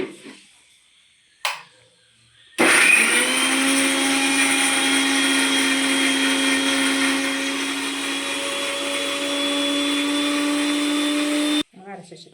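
A mixer grinder grinds a paste: a couple of short clicks, then the motor whines up to a loud steady drone with a strong tonal hum for about nine seconds before cutting off abruptly.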